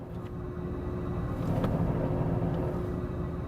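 A Porsche 911 S/T engine idles with the clutch disengaged, a steady, close, low rumble that holds evenly throughout with no talking.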